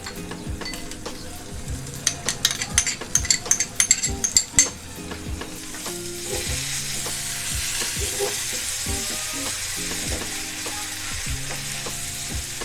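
Spices with almond paste, chilli powder and sour yogurt fry in a pan for egg korma, opening with clinks of a spoon against the pot, then settling into a steady sizzling hiss with occasional stirring.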